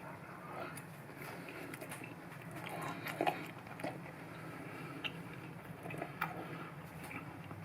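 Someone biting into and chewing an achari chicken kebab up close, soft intermittent crunches and wet chewing sounds over a low room hum, with a few sharper bites.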